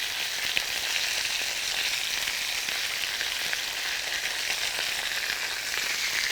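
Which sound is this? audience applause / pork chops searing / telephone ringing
pork chops searing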